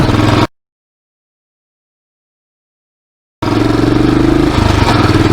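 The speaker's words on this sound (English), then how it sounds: "We'll give the bike a burst along here." A motorcycle riding along a road, its engine loud and close for a moment, then a gap of silence, then steady engine drone with rising revs as the bike pulls away.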